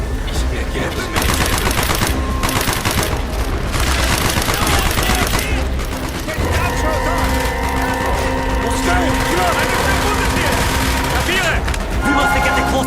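Rapid bursts of automatic gunfire in Call of Duty: Black Ops, loud and dense, broken by short pauses, with shouted voices and battle noise mixed in.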